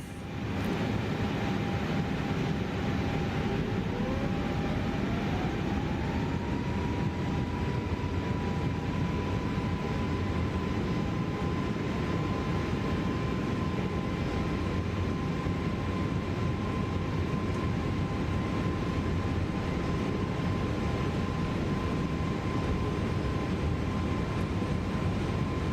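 An aircraft taking off in Microsoft Flight Simulator 2024, a steady loud engine roar with a constant broadband rush and a rising whine that settles into a held tone, continuous throughout.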